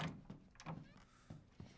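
A door opens in Resident Evil Village, a few faint, scattered wooden thunks and creaks spaced through a short quiet stretch.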